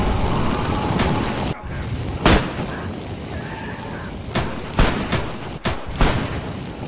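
Gunfire in the video game DayZ StalkerZ aimed at a fire anomaly: several sharp shots and bursts spaced irregularly over a loud, dense game background.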